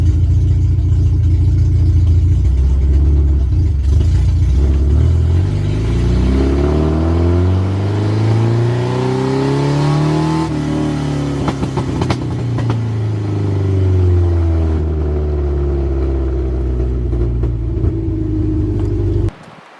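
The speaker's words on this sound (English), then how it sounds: "I'm going to record some footage of the exhaust because as of now it's open header" Mazda B2200 pickup truck engine running with an open header and no muffler, a loud, raspy, close idle that rises and falls through a couple of revs before settling, steady throughout with no talk.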